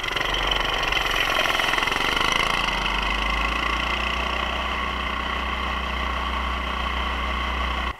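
Coleman CT200U mini bikes fitted with performance parts sit side by side at a standing race start, their small engines giving a loud, steady, buzzing idle drone with a brief rise early on.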